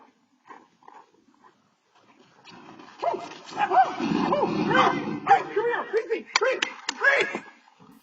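A small dog barks in a quick run of sharp yips, loud and close, after a quieter opening with a few faint sounds, mixed with other animal noise and voices.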